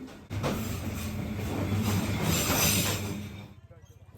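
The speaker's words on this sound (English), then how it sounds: "And there's this train passes by a few times a day." A train rumbles past along Hanoi's narrow train street, close and loud, with clattering wheels and a steady roar that fades out near the end.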